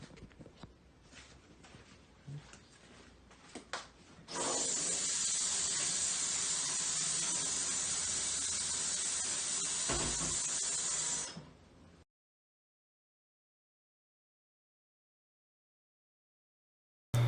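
Running water pours steadily from a tap over a dish being washed, a loud continuous hiss for about seven seconds after scattered softer clatter, then stopping abruptly.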